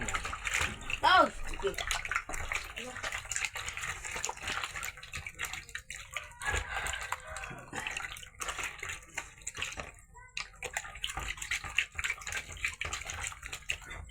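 Fish being washed with salt in water, with steady splashing and sloshing close by and a faint voice in the background.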